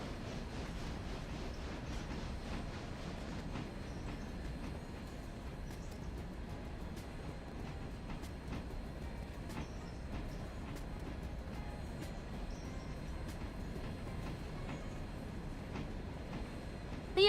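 A train rumbles along rails in the railway simulation game Railroader, a continuous low, even roar with faint clicking wheel noise, steady and moderately quiet for the whole stretch, with no speech.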